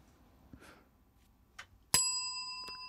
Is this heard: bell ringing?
yes